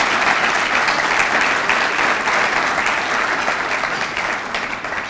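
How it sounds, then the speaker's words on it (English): A banquet audience applauding for teachers, loud sustained clapping from a large crowd that stays even and then tapers slightly at the end. "a round of applause?"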